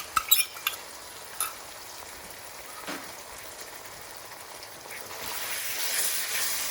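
Spices and tomato puree frying in a pan for a chicken mushroom bhuna, a soft steady sizzle with a few brief clatters near the start and the hiss growing louder toward the end.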